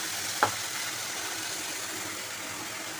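A paste of tomato, garlic, ginger and green chili frying in a pan, giving a steady continuous sizzle with one brief clink near the start, with no talk over it.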